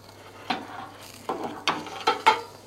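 Veggie burger patties hitting a hot camper-van barbecue grill, a quiet background sizzle punctuated by about five short, sharp crackling bursts as each patty goes down.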